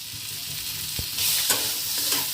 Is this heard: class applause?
no